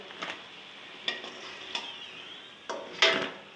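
Potato samosas fry quietly in hot oil under a soft, steady sizzle, broken by a few sharp clinks of a utensil against the pan.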